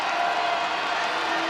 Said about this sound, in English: Crowd coming alive inside Purcell Pavilion